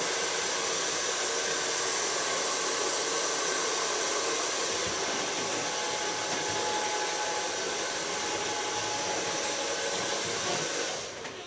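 Hair dryer blowing continuously on short hair, a loud, steady airy whoosh lasting over ten seconds before it cuts off at the end, with no talking.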